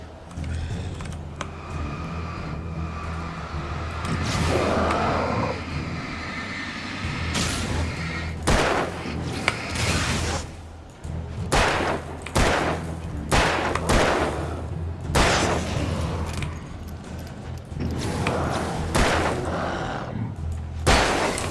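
Gunfire while shooting zombies in a video game, with loud, sharp shots and bursts spaced irregularly over a steady background rumble.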